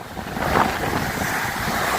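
Stormy sea waves roll in on the North Wales coast with strong wind buffeting the microphone, a loud continuous roar of surf and gusts with no voices.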